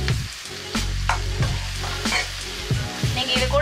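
Capsicum sizzling in hot oil in a pan while being stirred for chili cheese idli, a steady close frying hiss broken by repeated scraping spoon strokes.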